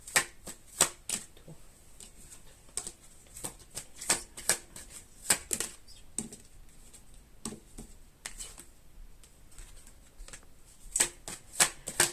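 A deck of playing cards is shuffled over and over in a quiet room, giving crisp riffles and snaps in irregular bursts, fairly close and moderately loud, with no talking.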